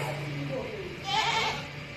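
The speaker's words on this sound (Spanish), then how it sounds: "¿Por qué tenía una cabra en el baúl?" A single goat bleat, wavering and nasal, rises briefly over a steady background hum.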